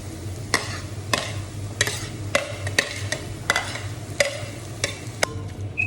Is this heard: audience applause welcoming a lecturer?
no